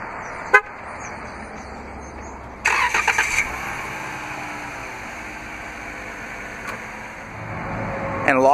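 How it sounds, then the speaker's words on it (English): A 2014 Dodge Journey Limited AWD starting by remote start, heard as a short horn chirp followed by the engine cranking and catching to a quiet idle, with faint clicks and another brief chirp; fairly distant and soft. "this vehicle is equipped with a remote start. To operate is easy, just double press the remote start button on the key fob."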